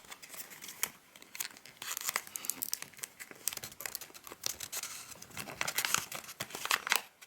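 Paper being folded into an origami popcorn bag, close crinkling and crisp rustling with sharp creases and soft scrapes throughout, no voice.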